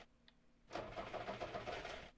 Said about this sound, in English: Alright, let's start this engine up.